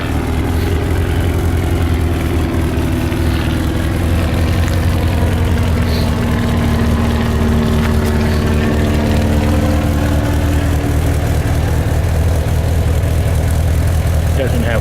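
A 1984 C4 Corvette with its stock engine and a brand-new muffler and exhaust system idles steadily up close, a constant low rumble with a faint tone shift partway through and no one talking.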